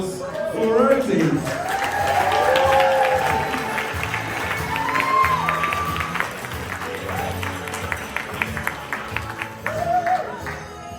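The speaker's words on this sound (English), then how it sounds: "So a round of applause for Rosie." Guests at a party clap and cheer, with whoops and shouts rising over steady applause that tapers off as voices and chatter take over near the end.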